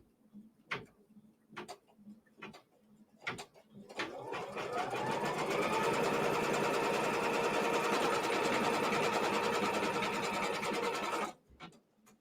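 An embroidery sewing machine stitches a quilt segment, starting with a few separate clicks before settling into a loud, steady whir of rapid stitching that runs for about seven seconds and then stops abruptly.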